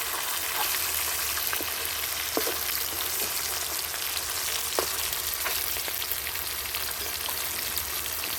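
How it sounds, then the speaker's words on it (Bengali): Fish pieces sauté in a pan of hot oil over medium heat, giving a steady, dense sizzle with scattered sharp pops and crackles throughout, close and fairly quiet. "তার জন্য মিডিয়ামভাবে আমি মাছগুলোকে কষে নেব।"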